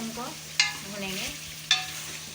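Garlic and ginger frying in oil in a pan for a dhaba-style chicken karahi, a soft steady sizzle broken by two sharp scrapes of a spoon stirring against the pan.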